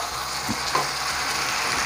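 Steady frying sizzle with a couple of soft scrapes and taps as tomato is stirred in a hot pan for chicken pepper fry; no talking.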